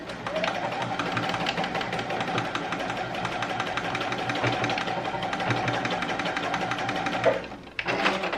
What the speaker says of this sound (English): I'm just going to stitch it along here